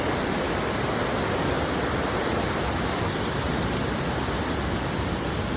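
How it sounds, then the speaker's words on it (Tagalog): Loud, steady rush of flowing water, a dense continuous roar with no breaks. "Maririnig na mula rito yung agos ng tubig."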